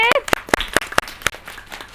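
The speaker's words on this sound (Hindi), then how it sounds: "तालियां बजाइए।" A few scattered handclaps from an audience at an Independence Day children's performance, sparse and uneven rather than a full ovation, with a voice briefly heard at the start.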